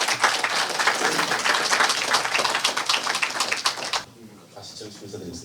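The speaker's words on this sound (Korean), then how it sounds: "큰 박수 부탁드리겠습니다." An indoor audience at a lecture event claps loudly and continuously to welcome a professor to the stage, dense applause for about four seconds before dropping to a few scattered claps.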